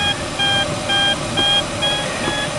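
A glider's variometer gives repeated high electronic beeps in short regular pulses, about one every half second, signalling lift, over a steady low engine-like hum.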